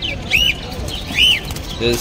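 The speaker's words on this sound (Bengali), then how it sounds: "এই হচ্ছে বদ্রি" Budgerigars at a pet bird market, giving a few short rising-and-falling chirps over a busy, rumbling background.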